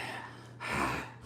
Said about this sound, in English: Sorry if I'm breathing really loud into the camera